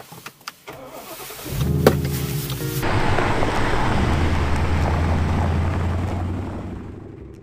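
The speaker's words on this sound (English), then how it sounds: "We'll drive the car under it." A car starts up and drives beneath a car park, its engine a steady, loud, rumbling drone that fills the enclosed space, with no talking.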